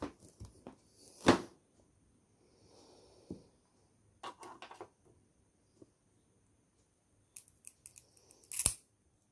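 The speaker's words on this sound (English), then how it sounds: "Just do a cross sectional" Fresh ginger rhizome cut into a cross section with scissors: several crisp snips and rustles at close range, separated by quiet pauses, with no talk.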